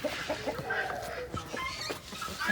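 Italian copper Marans chickens cluck softly nearby in a farmyard, giving short scattered clucks and murmurs at a low level with faint background noise.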